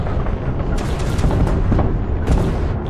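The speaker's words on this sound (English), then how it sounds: "Well, the explosions are decent." Loud, continuous explosions and rumbling booms from a game, with overlapping blasts and crackling bursts filling the whole stretch.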